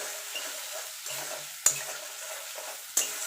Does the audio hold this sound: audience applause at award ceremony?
no